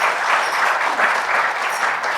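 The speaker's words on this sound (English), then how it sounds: "round of applause for song number one" Steady applause from an audience, a dense wash of many hands clapping at an even level throughout.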